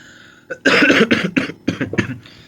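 A person who is unwell coughs several times in a quick, close burst of harsh barks, loud and alone with no talk.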